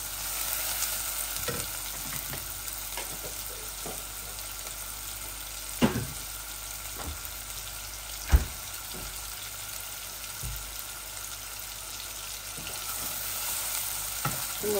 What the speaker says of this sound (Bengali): মশলাটা একটু ভাজা ভাজা হয়ে যাক